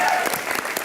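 Studio audience at a comedy show claps in a dense, continuous burst of applause, close and fairly loud for under a second.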